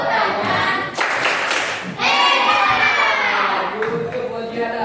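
A classroom of children clapping for someone speaker, rhythmic patterned claps mixed with young voices shouting and cheering, loud and close, pausing briefly before resuming.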